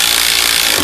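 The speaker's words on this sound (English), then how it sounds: "I'll just go ahead and start drilling this guy in" A screw driven into wood with a Gator Grip universal socket on a drill, producing a steady, close, harsh grinding rasp that runs unbroken for under a second and cuts off abruptly at the end.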